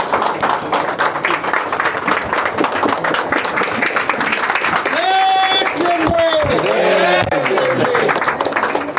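Audience applause welcoming a guest at a network marketing seminar, sustained dense clapping from a large crowd with music tones and cheering rising over it midway.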